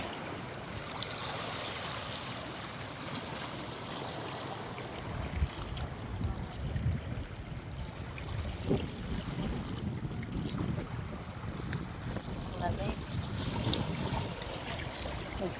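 Boats heading back to shore across rough sea with big waves, wind buffeting the microphone and a steady wash of water and engine rumble throughout, growing busier after the first few seconds.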